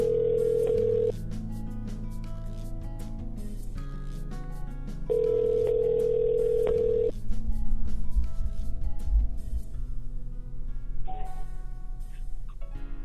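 A telephone call being placed: a steady tone, then a ringback tone repeating in long pulses, with background music and faint noise underneath and no clear voices.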